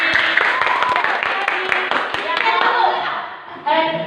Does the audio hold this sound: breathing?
no